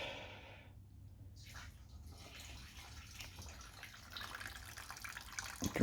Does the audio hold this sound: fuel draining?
yes